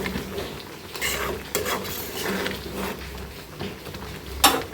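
Raw mango pickle, sweet, sour and spicy, is stirred in a pan with a utensil, making soft scrapes and knocks against the metal over a faint sizzle, ending in one sharper clink.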